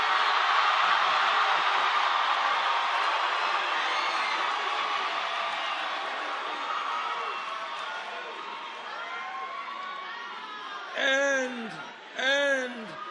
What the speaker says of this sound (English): And this is a loud crowd.